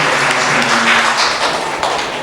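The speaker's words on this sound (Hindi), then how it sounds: "इनके सम्मान में आप सब एक अच्छी ताली बजाएं" An audience in the Senate Hall, Muzaffarpur, at a book launch gives a steady burst of clapping, a dense patter of many hands filling the room.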